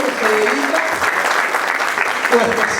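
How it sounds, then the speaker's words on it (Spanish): Church congregation applauding a ministry, a dense, steady wash of clapping throughout with a faint voice underneath. "Un aplauso, tremendo ministerio"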